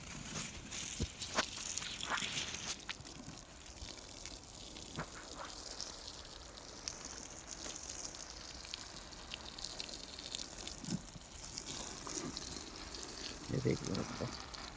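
Water poured and sprayed onto vermicompost beds covered with jute sacking, a faint, uneven splashing and trickling with scattered taps and knocks, running under a voice.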